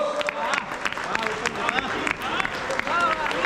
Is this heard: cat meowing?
no